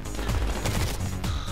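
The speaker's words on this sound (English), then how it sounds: "We got a sentry gun over here" Sentry gun firing in a video game, a rapid burst of automatic gunfire with sharp repeated cracks across the whole moment, loud and close with no talk.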